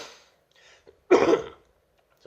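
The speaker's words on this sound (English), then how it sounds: "It's clearing my throat." A person clears their throat nearby, with a soft rasp followed by one louder, harsher hack, then a brief quiet.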